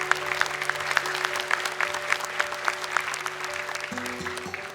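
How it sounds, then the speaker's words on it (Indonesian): Studio audience applause for a child contestant on the Hafiz Indonesia 2020 televised Quran-memorization competition: dense, steady clapping that holds for the whole stretch at moderate level over a faint sustained musical tone. "Tepuk tangan dong untuk Ula"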